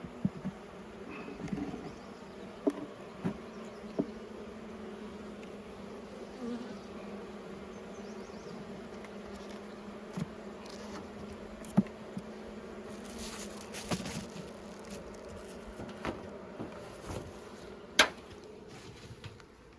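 Steady low buzzing of many honeybees at a hive while queens are checked and caught, a constant hum with occasional louder bees passing near and faint soft taps.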